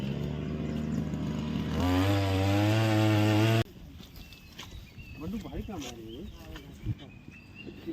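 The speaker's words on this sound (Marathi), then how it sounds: "हातीवडे गावचे बंडू कुमार आणि टीम आहे ते आज खड्डे काढून देण्यासाठी खास त्यांचं मशीन घेऊन आलेले" A small engine on a pit-digging machine for tree planting revs loudly with rising and falling pitch for a couple of seconds, then cuts out, followed by people talking nearby.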